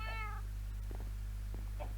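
A cat meows in the Minecraft video game, one clear drawn-out meow followed by a couple of shorter, softer mews over a constant low hum.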